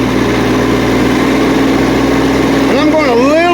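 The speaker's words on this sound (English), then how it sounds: "Now we rev it up." A tractor engine idles loudly and steadily with a deep hum. Near the end it revs up to drive a tiller through a quick hitch adapter, and its pitch climbs and wavers.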